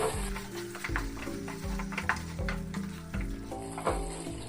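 Fish masala gravy sizzles in separated oil as it is stirred, loud crackling frying with scraping spoon strokes coming in irregular bursts, close up with no talking.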